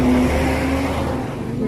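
A motorized tricycle's engine rumbles loud and close, a low steady drone that slightly shifts in pitch, with a voice talking over it.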